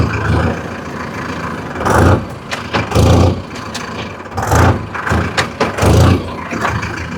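Engine of a new Mahindra Arjun Novo 605 DI tractor running steadily up close, with a loud throbbing low rumble that swells in repeated pulses roughly every second, like revving bursts over a constant idle.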